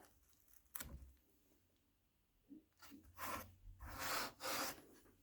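A chisel being rubbed on a Velcro-backed grit plate, several soft rasping strokes that grow longer and louder toward the end, close and without talk.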